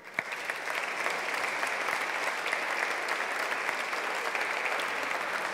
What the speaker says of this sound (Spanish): vamos, por supuesto, a regalarles un gran aplauso